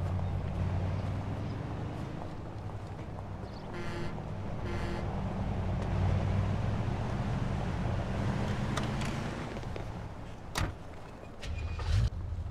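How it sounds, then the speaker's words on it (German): Car driving in the game Mafia 2, a steady low engine rumble with road noise, with a couple of brief clicks and knocks near the end. "Folge Henry in sein Auto."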